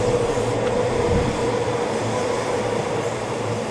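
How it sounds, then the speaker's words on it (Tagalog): A train running in Japan, its steady rumble and hum filling the space throughout with no distinct clatter standing out, sustained and fairly loud from inside or close by. "Train number 1."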